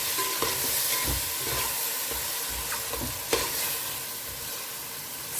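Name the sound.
marinated vegetables frying and being stirred in hot oil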